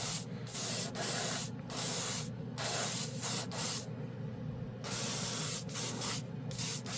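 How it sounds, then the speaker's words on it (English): An airbrush sprays military color paint onto test cards in repeated hissing bursts of a few seconds each, separated by short pauses, close and steady, with no talking. "I sprayed every one on these test cards"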